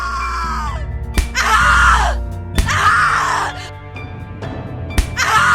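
A woman screams repeatedly in the horror video game The Cat Lady: long anguished wailing screams and groans in several bursts, close and loud, broken by sharp thuds and over a low droning background.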